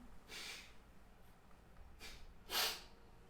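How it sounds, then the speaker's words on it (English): A person blowing their nose, three short breathy snorting bursts, the last one strongest, close but fairly quiet. "Just have to blow my nose."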